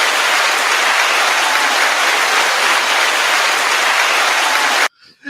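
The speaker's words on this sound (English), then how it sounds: "Let's give a round of applause to that young man." Studio audience applause for a podcast co-host: a dense, steady wash of clapping that holds loud and even for about five seconds, then cuts off abruptly.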